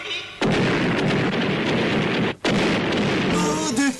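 A loud, sustained cartoon cannon blast from an animated series rumbles for several seconds, cuts briefly, then booms again, ending with a bright whistling rise.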